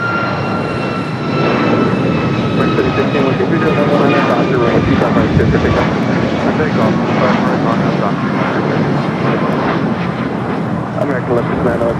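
Airliner engines roar loudly and steadily at LAX during a runway 25 right departure, a dense sustained rumble with a rising whine, while radio talk from the tower runs over it.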